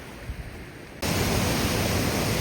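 Loud, steady rushing roar of river rapids on La Plata Peak, swelling up suddenly and staying constant, close by and without voices.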